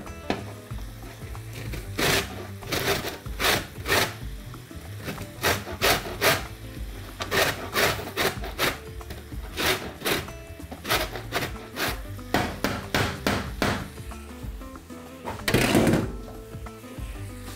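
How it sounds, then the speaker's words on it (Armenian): An orange's zest is grated for an exotic cake with pear and strawberry. Brisk rasping strokes come close up in quick irregular bursts with brief pauses, one longer heavy scrape near the end, and no talking. "Նախ քերում ենք վրայի նարնջագույն շերտը"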